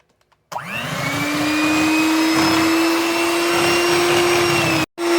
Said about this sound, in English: I'm a lazy person, so I'm using an electric mixer